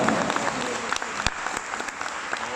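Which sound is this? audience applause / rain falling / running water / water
audience applause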